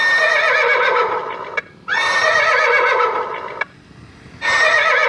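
Horse-neighing ringtone used as a novelty horn sound: three loud, close whinnies in succession, each a long quavering neigh separated by short pauses.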